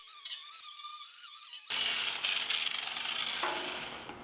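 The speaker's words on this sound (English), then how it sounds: "The final thing I'm going to do is clean this up with a wire cup, paying special attention to the rusty spots" A wire cup brush scours surface rust from a trailer's bare metal frame, starting partway through as a sudden, loud, steady harsh scraping whir that holds to the end with slight wavering.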